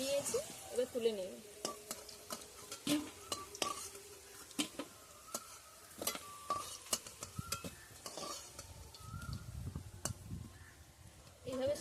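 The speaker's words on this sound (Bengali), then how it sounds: "এঁচোড়টা আমি হালকা করে ভেজে নিয়েছি।" Boiled green jackfruit pieces lightly frying in a pan, a soft sizzle under frequent clinks and scrapes of a spatula stirring against the pan, close and fairly quiet, with faint murmuring in the background.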